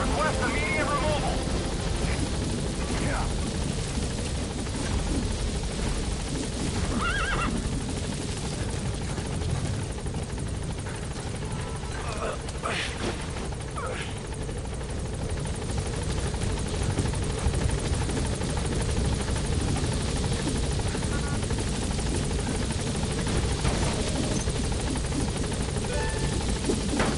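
A video-game helicopter drones with continuous rotor thrum throughout, while radio-style voices talk over it.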